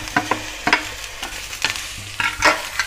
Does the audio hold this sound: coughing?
no